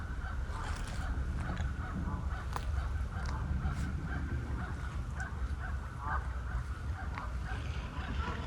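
Geese honking in scattered calls over a steady low rumble of wind or water, with no voices present.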